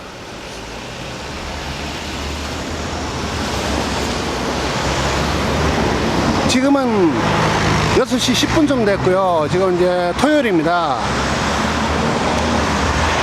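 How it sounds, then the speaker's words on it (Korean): Steady roar of cars passing on a city road on a Saturday evening fills the whole stretch, growing slightly louder, while someone talks close to the microphone over the traffic in the second half. "아무튼 차들이 좀 다니고 있고요."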